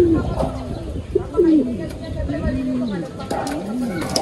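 Racing pigeons cooing repeatedly in a loft ahead of a summer derby race, soft rising-and-falling coos close by over a steady bustle, with a voice talking through much of it.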